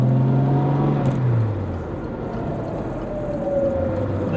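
A 1968 Jaguar E-Type coupe with covered headlight conversion drives steadily, its engine droning loud and close with a rising pitch as it accelerates, no voices over it.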